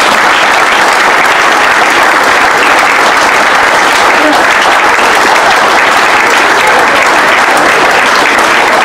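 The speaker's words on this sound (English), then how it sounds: "maybe a round of applause for Cian Bolger and Bobby Grant." A fans' forum audience of a football club gives a sustained, loud round of applause that fills the whole stretch at steady intensity without a break.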